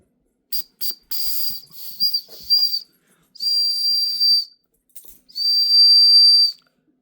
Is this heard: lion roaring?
no